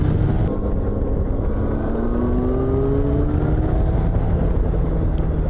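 A 600cc motorcycle ridden slowly at a steady pace, its engine droning continuously and close with rising harmonic tones as it gathers speed, plus constant wind and road rumble throughout.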